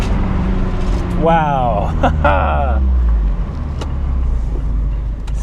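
A Mazda ND Miata drives on a track, its engine droning steadily with a low rumble and rising revs in the middle as it accelerates; a voice briefly exclaims over the engine and road noise.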